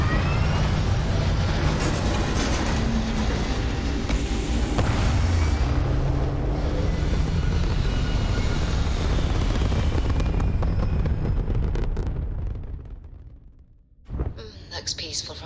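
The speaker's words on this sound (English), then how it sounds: "All thrusters firing." Spaceship thrusters in Starfield fire as a loud, sustained roaring rumble that holds steady for about twelve seconds, then cuts away into near silence before a brief noisy burst returns.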